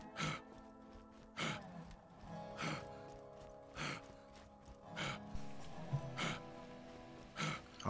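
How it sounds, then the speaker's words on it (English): Heavy panting from a running character in the video game Borderlands 2, with regular loud breaths repeating about every second and a quarter over a steady game soundtrack. "I am panting so heavily, and yet I keep on running."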